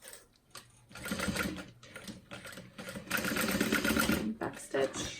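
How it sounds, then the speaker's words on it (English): Sewing machine running short back-stitch bursts on a tote bag, with rapid mechanical stitching in uneven spurts while a person talks over it nearby. "Back stitch."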